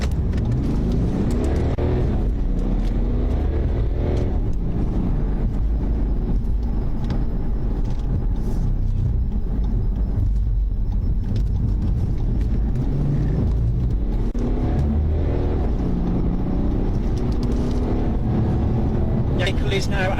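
A police car engine roars loudly and continuously while accelerating hard in a chase on a dual carriageway, with heavy rumbling road and wind noise throughout.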